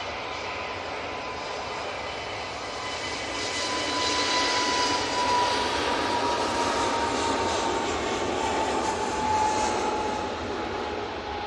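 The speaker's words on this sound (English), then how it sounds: "EasyJet lined up, ready to go. This is off to Reykjavik. It's an A320neo." An EasyJet Airbus A320neo bound for Reykjavik takes off at Manchester Airport, its engines a broad, steady roar that swells and holds loud and close, with a thin whining tone running through it.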